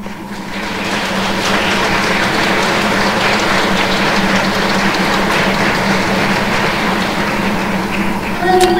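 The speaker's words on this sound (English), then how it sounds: "Judges, if you would please stand up and receive a round of applause." Steady applause fills the hall at an awards ceremony as the judges are honoured, the clapping dense and continuous from start to finish.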